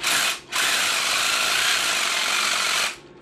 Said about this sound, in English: What we can do is simply use our Sawzall here to make the first kind of marking.